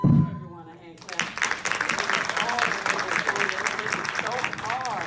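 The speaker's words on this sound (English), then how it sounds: "Everyone, a hand clap." An audience claps together at a community gathering, the applause rising after a brief spoken introduction and holding steady throughout, with voices and music-like tones mixed over the clapping.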